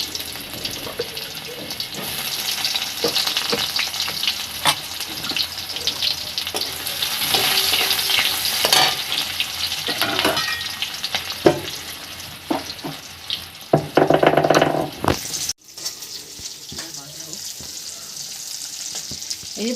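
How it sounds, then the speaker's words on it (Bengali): Onion hisses and sizzles steadily in hot oil after a five-spice tempering goes in, with stirring clatter and a brief burst of tap water near the end. "এই 5 ফোড়ন দিয়ে দিলাম। পেঁয়াজটা ছেড়ে দিলাম।"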